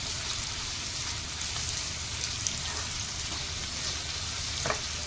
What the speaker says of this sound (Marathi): आता हा कांदा आपण परतून घेतला आहे